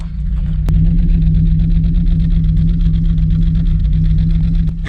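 A Ford Transit Mk2 camper van engine idles steadily and loudly up close, a smooth even hum with a faint rhythmic throb and no voices.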